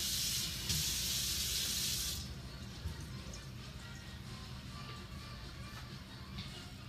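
Tap water runs steadily into a measuring cup for about two seconds, a bright close hiss that then stops, leaving quiet room tone.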